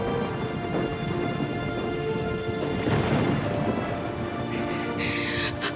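Heavy rain pours steadily through a thunderstorm, a dense loud hiss of falling water with deep rumbling thunder swelling in the middle, continuous for several seconds with no voices.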